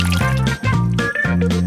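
Milk is poured into ice pop molds over berries, close by, in short filling bursts with brief pauses between them.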